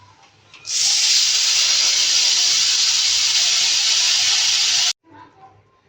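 Pressure cooker cooking mutton with bottle gourd lets out one loud, steady steam whistle-hiss that starts abruptly, holds for about four seconds and cuts off sharply, with faint kitchen sounds before and after.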